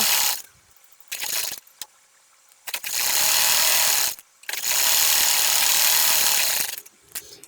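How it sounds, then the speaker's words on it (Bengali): Sewing machine stitching a narrow seam along the side of a baby kameez: loud mechanical whirring runs in several bursts of one to two seconds, separated by short near-silent pauses. "এখন আমি হচ্ছে একদম পাশে চিকন করে সেলাই বসিয়ে নেব"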